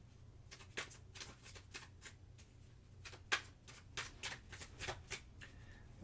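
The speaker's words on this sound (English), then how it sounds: "let me start shuffling another deck here" A deck of tarot cards is shuffled by hand in a quiet room, giving a steady run of soft riffling and slapping bursts, close and clear, with no talking.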